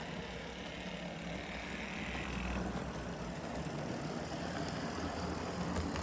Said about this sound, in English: it's still a budget loco, so the gears might not be very quiet.